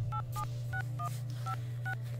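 A telephone keypad dialing a number in The Dream Machine, with a quick, irregular series of about eight touch-tone beeps over a steady low hum.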